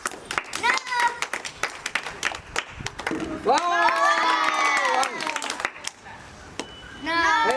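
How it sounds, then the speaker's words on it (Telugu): A group claps in a rapid patter of many hands while children's voices shout and cheer over it. "క్లాప్స్ కొట్టాలి అందరూ"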